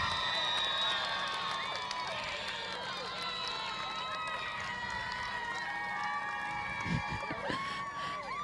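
Spectators cheer and shout over a lively, continuous crowd din at a rowing medal ceremony for under-16 girls' coxed quad sculls, whoops and voices mingled throughout with some applause near the end.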